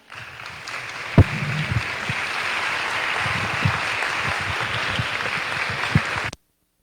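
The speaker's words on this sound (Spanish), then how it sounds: "Le recibimos con un caluroso aplauso." Warm applause from the audience at a philosophy symposium, steady and sustained clapping with a few louder nearby claps, continuing evenly for several seconds before cutting off abruptly.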